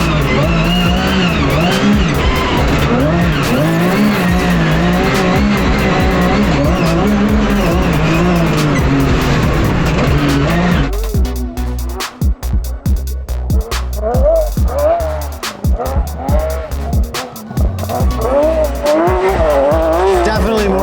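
A Porsche GT3 Cup race car charges hard along a dirt rally stage, its engine roaring loud and close with rising and falling revs. Gear changes and tire noise on loose ground come through, with commentary partly audible over it.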